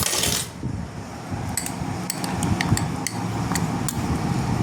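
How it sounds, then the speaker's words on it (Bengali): A spoon stirs milk powder into warm milk in a cup or pot, giving repeated light metallic clinks and taps against the side over a soft, steady background. "সবার প্রথমে আমি দুধটার মধ্যে এই মিল্ক পাউডারটা মেশাবো।"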